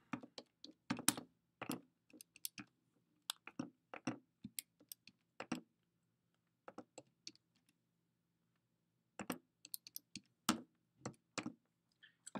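Fingers tap out a calculation on a computer keyboard in quick clusters of crisp key clicks, broken by a few brief pauses, close and quiet with no talking.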